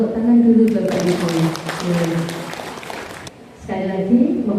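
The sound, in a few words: applause from school audience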